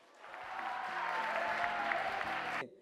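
Applause closing a middle-school mock trial competition, a short burst of clapping from the audience that swells, holds, then cuts off abruptly, with faint murmured voices underneath.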